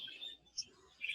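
Budgies in a breeding aviary give a few faint, high, short chirps, scattered and thin in a quiet room, with one brighter call near the middle and a couple more at the end.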